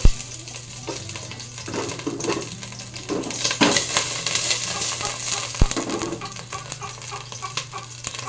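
Sliced ginger sautéing in a little hot oil, crackling sizzle with clinks and knocks of a utensil against the pan, and a rooster crowing in the background.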